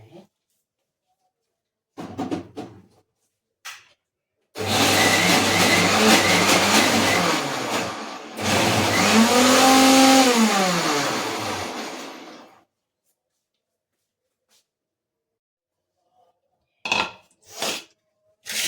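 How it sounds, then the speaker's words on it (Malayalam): An electric mixer grinder runs in two loud bursts of a few seconds each, the motor whining and pitch shifting, with brief clatters before and after. "അപ്പം ഇത് നമുക്കൊന്ന് മിക്സിയിലൊന്ന് പെട്ടെന്ന് അടിച്ചെടുത്തിട്ട്"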